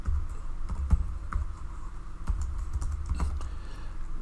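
A computer keyboard being typed on, with sparse, irregular clicks and a few louder keystrokes heard up close against a low background rumble.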